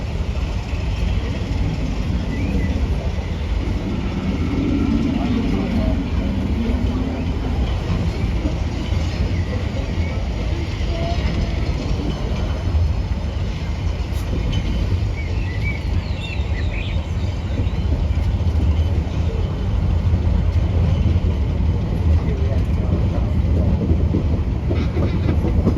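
The Big Thunder Mountain mining train ride at Disneyland, a continuous loud rumble of rolling train cars with rattling and clatter and a faint crowd murmur throughout.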